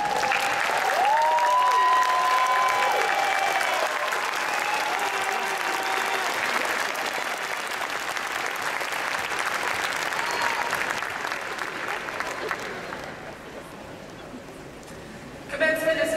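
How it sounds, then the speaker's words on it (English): A graduation commencement crowd applauds the graduates' families and friends with sustained, broad clapping that fills the hall. A few tonal voices or cheers rise over it early on, and the clapping thins and softens toward the end. "give a big round of applause to your family and friends."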